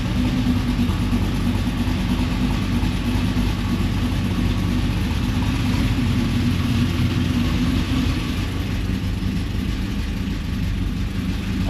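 A Pontiac WS6 Trans Am engine runs steadily at a smooth, even idle, a loud, continuous low rumble held for the whole stretch with no speech.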